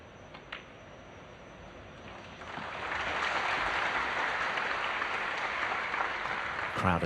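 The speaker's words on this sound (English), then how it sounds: "Crowd acknowledging frame ball for Selby" A snooker crowd at the Shanghai Masters semi-final applauds a frame ball, the clapping swelling from quiet into a sustained, dense round of applause that carries on to the end, with no speech over it.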